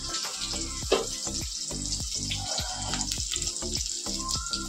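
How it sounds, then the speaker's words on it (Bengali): Masoor lentil dal is tempered with hot oil, giving a steady wet sizzle and crackle with scattered sharp pops and clinks throughout, close and moderately loud, with no talking. "এদিকে ডাল সম্বাদ দিয়ে নেবে"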